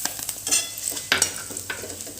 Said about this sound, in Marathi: थोडंसं परतून घ्यायचं